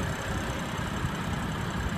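A Mercedes-Benz GLE450 AMG engine idles, a steady low rumble with a faint mechanical texture, even and unbroken.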